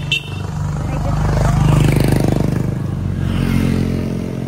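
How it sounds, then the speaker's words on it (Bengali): A motorcycle passes on a quiet, peaceful rural road, its engine rising to a loud rattling drone as it nears and then easing off as it moves away. "এত শান্তিপূর্ণ জায়গায় যখন এই বাইকের আওয়াজটা হলো"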